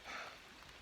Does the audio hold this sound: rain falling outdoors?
yes